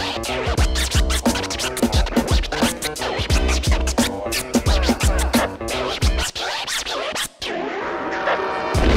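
A DJ scratches records during a live hip-hop set, with dense, rapid rhythmic scratches running continuously over a loud, pounding beat and only one brief dropout near the end.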